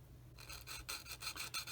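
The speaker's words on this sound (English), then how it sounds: "Also use a file." A file rasps against a plastic part from a Tamiya 1/35 Panzer 38(t) model kit, giving several quick, close back-and-forth strokes in a steady rhythm, with no talking.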